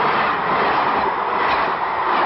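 A train rushes past very close to a house, a loud, steady roar of rolling stock filling the moment without pause and with no voices over it.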